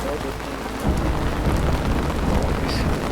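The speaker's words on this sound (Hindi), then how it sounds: "भाई बारिश बहुत तेज़ है।" Heavy rain pours down steadily outdoors in the mountains, a dense loud roar of rain on surfaces that thickens after the first second, with no voices.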